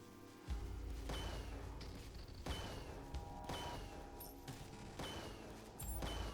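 Repeated bomb explosions from the Golden Bomb and Glitter Bomb combo in The Binding of Isaac: Repentance+, sounding as loud, booming blasts at irregular intervals with clattering game effects between them and no talking.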